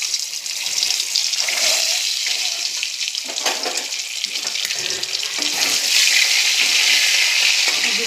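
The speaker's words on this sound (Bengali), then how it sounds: "আমি এবার একে একে ডিমগুলো ছেড়ে দেবো। ডিমটা ভেজে নেব।" Boiled eggs for an egg curry sizzle in hot oil, added one by one to fry, with a steady, bright crackling hiss that swells slightly toward the end; no one speaks.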